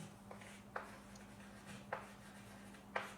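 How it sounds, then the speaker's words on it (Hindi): Chalk or marker strokes on a board during a physics lesson, three or four short scratchy taps spaced about a second apart over a steady low hum, faint and close. "यहां पे लिखता हूं मैं"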